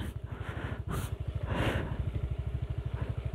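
A motorcycle carrying a rider and child rolls slowly down a steep, slippery slope, its engine idling in a steady close rhythmic putter with brief louder swells.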